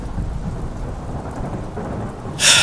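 Steady rain falls with a low rumble of thunder beneath it, then a sudden loud crackling burst of thunder breaks in near the end.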